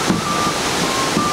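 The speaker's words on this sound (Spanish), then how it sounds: "Ahí podemos observar hermosísima la catarata, vibrante con su brillo," A waterfall gives a steady, loud rush of falling water, a dense continuous roar with no talking over it.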